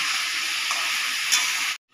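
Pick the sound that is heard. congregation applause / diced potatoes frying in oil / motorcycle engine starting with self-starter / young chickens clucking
diced potatoes frying in oil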